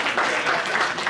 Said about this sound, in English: Can you give a clap for yourself?